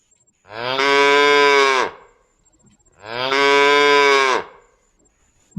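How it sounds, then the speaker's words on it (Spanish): A cow lowing twice in a children's animal sound memory game, each moo a long, loud, steady call of about a second and a half, separated by a short silence. "vaca."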